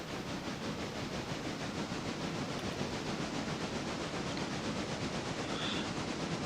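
Train running on rails in the Railroader video game: a steady, dense rolling rumble with faint rhythmic clatter, continuous for several seconds at moderate loudness, no voices.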